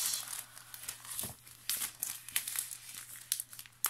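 Crinkling and rustling of a plastic sachet handled up close, with irregular bursts of crackle and a few sharper tearing-like crunches over a quiet background.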